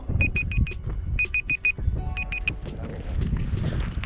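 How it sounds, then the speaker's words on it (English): A cooking timer goes off outdoors at a lakeside camp by the water, sounding three bursts of rapid high beeps, clear over a steady rumbling background. "Oh, there goes the timer, guys."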